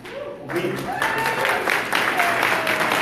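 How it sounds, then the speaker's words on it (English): Scattered, modest applause rises from a town hall audience at a health care meeting in Valencia. The clapping runs under voices that carry through it. "That didn't get a lot of applause"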